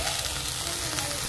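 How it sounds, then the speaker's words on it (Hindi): Eggplant and soybean chunks frying together in hot oil for a mixed vegetable curry, a dense, steady close sizzle with faint crackles and no voices. "हम दोनों को फ्राई कर लेंगे"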